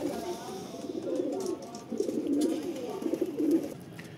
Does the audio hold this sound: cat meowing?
no